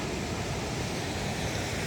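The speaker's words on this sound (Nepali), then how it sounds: "अब हेर्नुहोस् यहाँ झरना आएको चिज" Steady, dense rush of a waterfall in thick jungle, a broadband roar held at even strength from start to finish with no voices over it.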